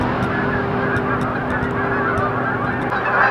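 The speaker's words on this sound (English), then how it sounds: "Look at all them gooses." A flock of geese honks continuously at sunset, with many overlapping calls forming a dense, steady chorus and sharper individual honks standing out above it.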